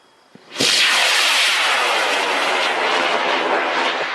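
An Aerotech K535W motor lifts the Lotus 5 dual-deploy model rocket off with a small click, then a sudden loud roaring whoosh that holds steady and close for several seconds.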